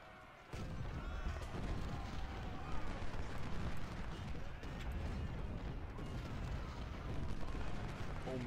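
Cannon units in a video game battle fire heavy booms that repeat under a dense, constant din of combat with scattered crashes throughout.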